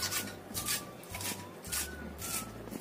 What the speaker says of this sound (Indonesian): Ini kita rajang halus supaya rasanya tuh lebih enak dan wangi.